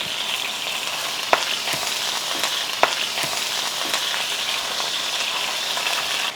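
A pound of ground lamb fries in canola oil in a hot pan on a Breville induction cooktop, giving a continuous loud sizzle with two sharp knocks of a utensil against the pan and no speech.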